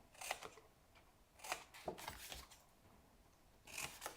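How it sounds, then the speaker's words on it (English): Scissors cut through a cardboard box along a half-inch side while making a squeeze top box, giving several short, crisp snipping and crunching bursts at close range with quiet gaps between cuts. "next we're going to take some scissors and we are going to cut over here on this 1/2 inch side"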